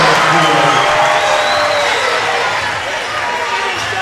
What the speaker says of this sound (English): And the crowd for Gatesville is going crazy, showing the appreciation.